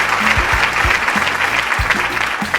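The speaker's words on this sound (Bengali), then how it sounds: "মোবাশ্বের স্যারের জন্য একটা জোরে হাততালি।" Loud, steady applause from a school audience for the headmaster on a quiz programme, dense clapping sustained throughout with a few voices briefly cutting through.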